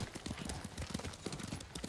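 A horse gallops in Ghost of Tsushima, with rapid rhythmic hoofbeats thudding close and loud over steady game ambience for two seconds.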